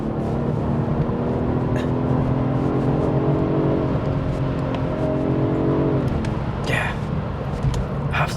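A BMW 840i M Sport engine drones steadily with rising, revving harmonics as it accelerates, loud and close, with a brief whoosh near the end.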